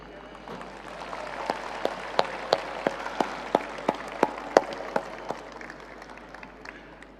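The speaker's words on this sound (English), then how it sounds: "give yourself a warm round of applause." An audience at a large cryptocurrency event applauds: a steady wash of many hands clapping, with a string of sharper individual claps standing out in the middle before the applause eases off.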